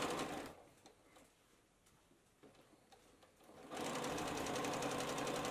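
A sewing machine free motion quilting wishbone patterns in a fabric strip runs at a steady fast stitching rhythm, pauses briefly while hands reposition, then resumes close and clear.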